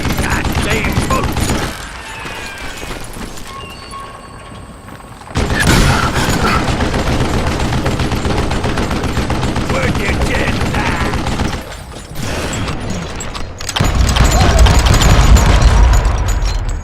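Gunfire in the Wild West shooter Call of Juarez Gunslinger, loud rattling volleys that pause briefly before resuming in heavy bursts, with someone talking over parts of it.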